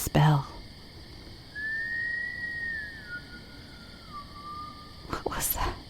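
A faint, thin whistle drifts up and slowly slides down in pitch, with soft whispering before and after it.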